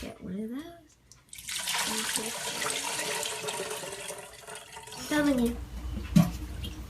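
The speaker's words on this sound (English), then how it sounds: "I'm just going to dip this in here and pour it through the strainer" Thin homemade chicken bone broth pours and splashes through a metal strainer, a steady liquid rush lasting several seconds, with someone speaking quietly before and after.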